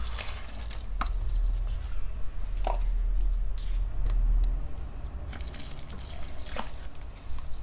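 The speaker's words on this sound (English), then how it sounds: "You can just throw the water right in and mix it up." Water is thrown into dry coco coir and mixed by hand for transplanting tomato seedlings, giving close, wet squishing and crumbly stirring sounds with occasional sharp clicks and a low background rumble.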